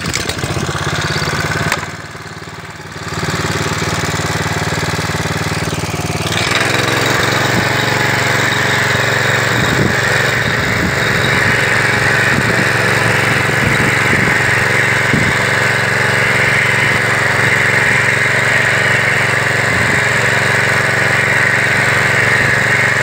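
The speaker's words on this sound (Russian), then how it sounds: "Далее заводим культиватор и немного его толкаем вперед." A Tarpan TMZ-MK-03 motor cultivator engine runs steadily and loudly, close by, with a brief dip near the start before a continuous rough, buzzing drone hoeing potato rows.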